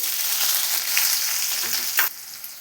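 Mustard seeds and onion fry in hot oil in a kadai with a loud, steady sizzle, broken by a couple of sharper crackles and stirring sounds before it eases slightly.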